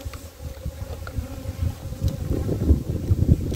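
Upset honeybees from a second hive buzz close to the microphone, a dense, wavering hum that grows louder and busier toward the end, with gusty rumbling underneath.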